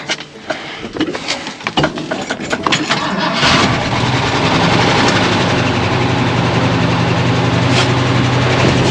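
A 1979 Ford F-250 starting after a radiator replacement: a few seconds of choppy cranking catch into a loud, steady, close idle that runs unbroken to the end.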